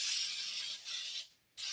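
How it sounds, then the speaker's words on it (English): Cooking spray hissing into a loaf pan for a lemon blueberry poppy seed muffin loaf, a close, loud spray in two bursts with a brief gap between them. "You want to make sure that you spray your pan, your loaf pan pretty good there."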